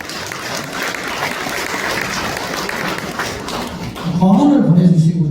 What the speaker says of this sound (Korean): 그래도 박수 한번 쳐주시죠.